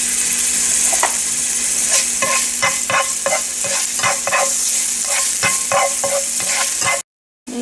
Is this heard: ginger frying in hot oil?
yes